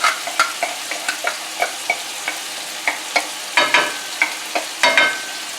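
Apricot glaze being stirred into sizzling merguez-spiced pork loin pieces in a hot pan, with repeated scraping stir strokes in an uneven rhythm over a steady close sizzle.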